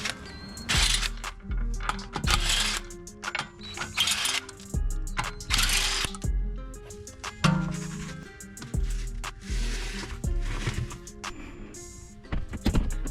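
A ratchet works on a BMW 5 Series wheel during front strut replacement, giving repeated bursts of metallic clicking and clunks in an uneven rhythm, close and moderately loud with no talk.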